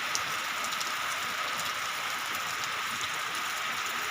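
Rain falls outdoors as an even, unbroken hiss with faint scattered drop ticks, steady and fairly close, with no voices.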